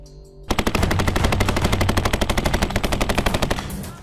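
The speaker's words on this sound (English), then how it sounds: "candidates must prove their grit under the added stress of simulated gunfire and smoke grenades" Rapid bursts of simulated automatic gunfire during Navy boat team training crack out loudly and steadily for about three seconds after a brief quieter lead-in, with no voices.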